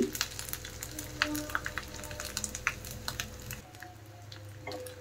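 Crushed ginger and ghee fry in a tempering for vegetarian khichdi, with a steady soft sizzle and crackle, light stirring clicks, and a quieter stretch near the end.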